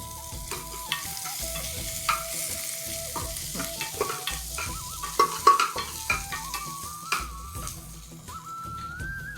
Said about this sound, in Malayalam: ഇനി ആ പരിപ്പും കൂടെ നമ്മൾ ഇതിൽ ഇട്ട് കൊടുക്കുകയാണ്.